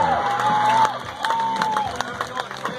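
A rodeo crowd at a bronc-riding memorial event cheers and claps as a rider tips his hat, with a lively roar of voices under an announcer's talk and scattered whoops.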